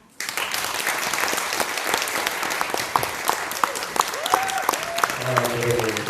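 An audience at a Korean-language speech contest breaks into dense, sustained applause that fills the room. A voice begins talking over the clapping near the end.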